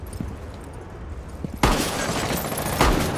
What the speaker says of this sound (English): you guys need me to shoot out these windows?